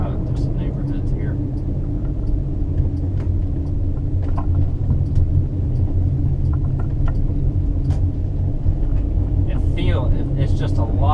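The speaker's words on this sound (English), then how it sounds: "Driving through some neighborhoods here." A Honda Element driving through a residential neighborhood produces a steady low engine and road rumble from inside the cabin, constant and fairly loud, with scattered small rattles and clicks and some talking.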